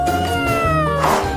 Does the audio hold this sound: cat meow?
yes